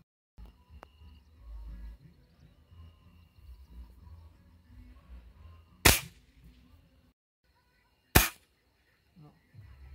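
Explosive diábolo pellets go off outdoors in two sharp, loud cracks about two seconds apart, each standing out clearly against a quiet background.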